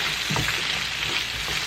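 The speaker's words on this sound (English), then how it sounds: "start frying those potatoes" Potatoes frying in oil in a pan, a steady close sizzle with faint scraping as they are stirred around, no voices.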